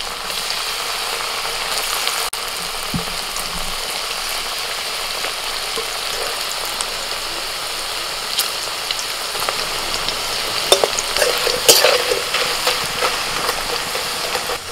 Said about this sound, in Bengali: এবার ওই তেলে করলা ভেজে নিচ্ছি।